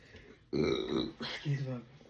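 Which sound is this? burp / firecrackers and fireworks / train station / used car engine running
burp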